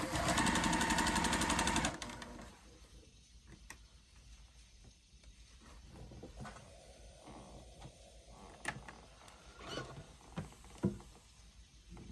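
A sewing machine chains 1.5-inch scrap squares for a postage stamp quilt in a loud, rapid stitching burst that stops after about two seconds, followed by quiet fabric handling and scattered light clicks.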